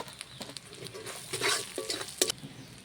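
Spice paste for cabbage crab curry fries and is stirred in a pan: a soft sizzle with quick spatula scrapes and taps, close and quiet, no talking.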